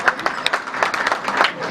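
An audience claps in applause at a meeting of a Spanish-speaking organisation's board of directors, a short burst of scattered clapping with a voice over it.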